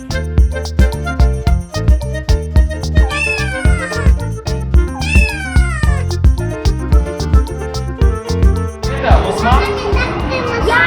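A cat stuck up high meows in short, rising cries amid a busy, loud background, with children's voices calling and chattering throughout and a burst of noisy crowd-like sound near the end.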